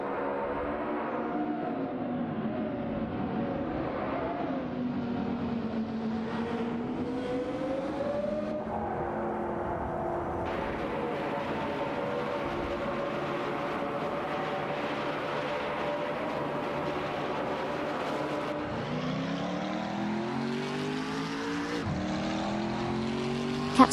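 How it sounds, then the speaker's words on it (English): Video game race cars, a Lamborghini Sian FKP 37 and a Koenigsegg Agera RS, whining engines rising and shifting through gears in a continuous loud drone with no talking. "The battle for 15 is heating up between Deplorable Apple in a Lamborghini Sian FKP 37 and La Croissant 1980 in a Koenigsegg Agera RS"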